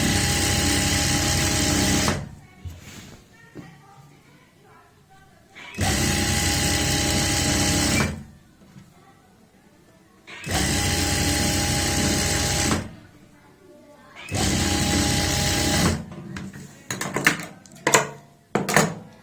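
An electric sewing machine stitches a ready-made border onto a boat neck kurti in four long, steady runs of rapid needle chatter, separated by quiet pauses with fabric handling and a few short clicks near the end.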